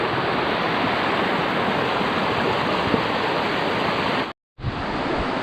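Irrigation water pours steadily into a rice paddy, a loud, continuous rushing wash that cuts out abruptly for a moment near the end before resuming.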